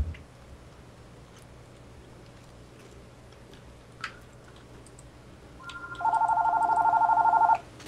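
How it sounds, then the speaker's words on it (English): A phone's electronic ringtone breaks in during a Garry's Mod Trouble in Terrorist Town gaming session, pulsing steadily and fairly loud for a couple of seconds near the end over faint background noise. "Oh, I'm getting a phone call."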